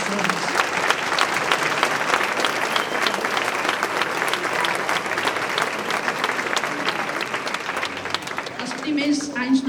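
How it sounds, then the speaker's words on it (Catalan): A crowd at the Club Esportiu Arenys de Munt's Sant festival proclamation applauds steadily in memory of the club's founders, with even, continuous clapping for nearly ten seconds before a voice comes in. "I m'agradaria que féssim un aplaudiment en recordar la memòria d'aquestes persones."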